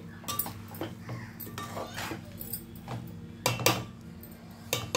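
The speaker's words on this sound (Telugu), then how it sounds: "ముక్క విడిపోకుండా నెమ్మదిగా కలపాలండి." A spoon working through a pot of curry with gentle stirring, giving soft scrapes and scattered light clinks of metal on the pot, with steady low kitchen hum beneath and a few louder knocks near the end.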